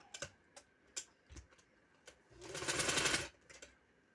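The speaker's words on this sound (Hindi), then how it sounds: "मैं अब सिलाई लगाने लगी हूँ, आप लोगों को दिखाती हूँ।" A sewing machine stitches a trouser hem, giving scattered clicks and taps from handling, then one short, loud burst of running needle near the end, close and with no voice.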